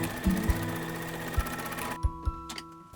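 An embroidery machine stitches a doll dress in the hoop, giving a close, steady mechanical hum with a few sharp ticks and knocks, the whirring stopping about two thirds of the way through.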